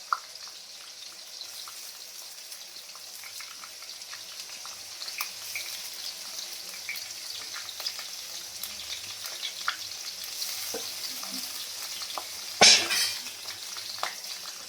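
Onions added to hot oil in a large wok, with fried bay leaves, for a home-style chicken kasa, giving a steady soft sizzle throughout with occasional stirring clatter and a brief sharp scrape near the end.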